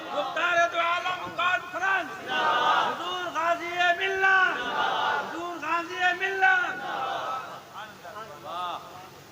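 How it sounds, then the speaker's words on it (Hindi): A crowd at a religious speech gathering answers a slogan call with loud, rhythmic chanted shouts in repeated bursts, voices rising and falling together over several seconds. "नारे तकबीर।"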